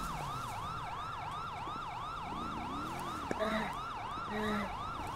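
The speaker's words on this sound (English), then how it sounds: "Siren check. It might be mine." A wailing police siren in Grand Theft Auto V cycles steadily up and down throughout, loud and close, with a brief thump and a low rumble partway through.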